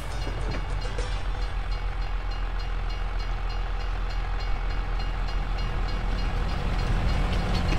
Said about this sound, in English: Oh, train.